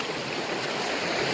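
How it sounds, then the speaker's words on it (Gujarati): A deep forest stream in Gir rushes past in a dense, unbroken wash of flowing water, loud and close, with no talking. "આ ઝરણું જુઓ કે કેવું ખતરનાક"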